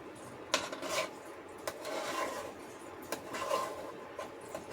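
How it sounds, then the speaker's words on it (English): A frozen pizza topped with onions being cut: quiet, rasping strokes of a cutter across the crust, several scraping passes with soft clicks of a utensil against a pan, fairly faint and close. "Tilt it in sideways and cut it"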